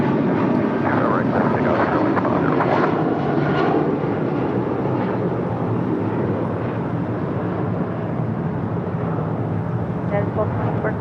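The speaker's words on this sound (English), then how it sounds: "Breeze Airways Flight 702 coming in from Richmond, Virginia. This Airbus A220-300." A Breeze Airways Airbus A220-300 jet airliner rumbles loudly and continuously nearby, a broad engine roar easing slightly over time, with voices talking over it.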